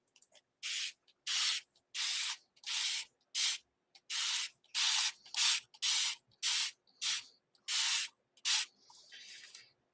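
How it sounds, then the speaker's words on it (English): About a dozen short, sharp spray-bottle bursts in an uneven rhythm, each a brief hiss, as water is sprayed onto leather pieces in a leatherworking workshop. "Just spraying these down here."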